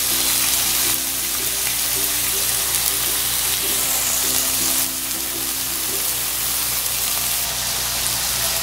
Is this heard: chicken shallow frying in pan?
yes